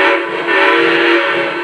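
A Lionel Legacy Southern Crescent 4-6-2 Pacific model steam locomotive gives a continuous chime-like whistle, loud and close, holding steady for the whole short clip with no talk.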